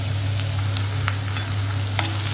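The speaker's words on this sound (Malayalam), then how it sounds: "അപ്പോൾ നമുക്കിതിലേക്ക് അടുത്തായി ചേർക്കുന്നത് ഇഞ്ചിയും വെളുത്തുള്ളിയും പച്ചമുളകും കൂടെ ചതച്ചെടുത്തിട്ടുള്ളതാണ്." Crushed ginger, garlic and green chili fry with onions in hot oil for an Arabic beef stew, giving a steady close sizzle with faint scraping and stirring ticks and no talking.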